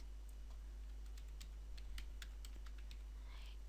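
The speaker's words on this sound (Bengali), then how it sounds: "এখানে কমেন্টস দিয়ে আমি এখানে লিখব কন্টেইনার ইন্ড" Someone types code comments for a web page layout on a computer keyboard, producing rapid, quiet clicking keystrokes in uneven bursts over a low steady hum.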